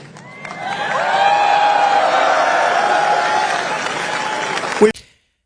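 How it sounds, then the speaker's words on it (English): A crowd of troops applauding at an event, a dense sustained wash of clapping with some cheering that builds quickly, holds loud for several seconds, then cuts off abruptly. "Why'd you clap?"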